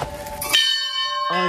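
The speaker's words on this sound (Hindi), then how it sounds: "चारों तरफ घंटियाँ ही घंटियाँ बज रही थी" Metal temple bells ring at Ghorakhal temple, a sharp strike that leaves a clear, sustained ringing tone, followed by another strike near the end, close and fairly loud.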